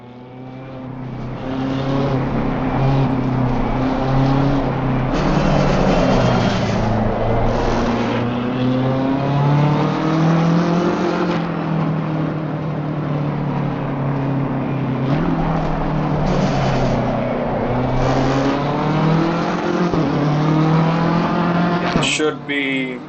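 BMW M4 GT3 race car engine in Assetto Corsa Competizione, loud and close, droning at high revs with pitch sweeping down through repeated downshifts and climbing again, ending in a brief sharp burst.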